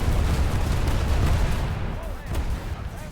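Tank cannon fire in the video game War Thunder: one loud, close, broadband boom that rolls on as a heavy low rumble, then slowly fades.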